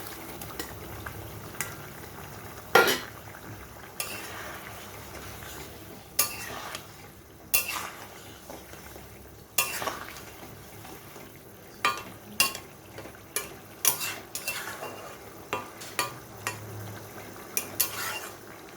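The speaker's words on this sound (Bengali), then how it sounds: "এখন আমি ভেজে রাখা বড়াগুলো দিয়ে দিচ্ছি" Fried chhana, banana and potato koftas go into a simmering gravy, with a quiet bubbling simmer broken by repeated clinks and knocks of a spoon against the pot.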